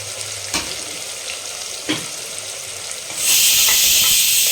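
Whole garam masala spices go into hot oil for a country-chicken biryani. After a couple of faint clinks, a loud, bright sizzle bursts up and holds steady close by.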